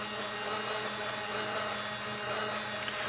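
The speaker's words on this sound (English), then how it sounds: "now I'm going to force dry it again with my little dryer here" A small handheld dryer blows over acrylic paint on press-on nails, making a steady whirring hum that runs continuously at moderate volume, close by and without speech.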